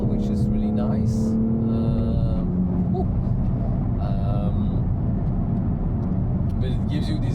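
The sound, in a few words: BMW M3 Competition Touring six-cylinder engine, exhaust valves open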